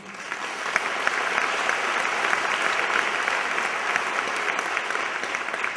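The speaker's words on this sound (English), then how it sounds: "So one big applause for brave Iranian women." An audience claps in sustained applause at a talk, a dense, even wash of many hands that holds steady at moderate loudness for several seconds without talk.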